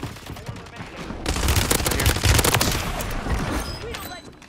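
Dense Call of Duty gunfire in loud, rapid automatic bursts that build to a sustained barrage and then thin slightly toward the end.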